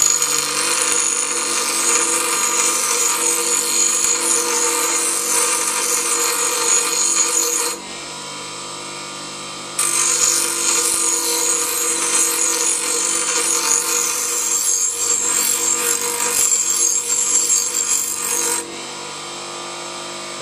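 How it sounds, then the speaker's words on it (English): Grinding wheel working galvanized steel tow hitch parts in a home garage, a loud steady abrasive whine held in two long passes with a brief drop between them, close up with no talking. "So let's get a grinding wheel out and prep these."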